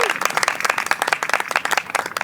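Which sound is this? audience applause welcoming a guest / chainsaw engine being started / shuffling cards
audience applause welcoming a guest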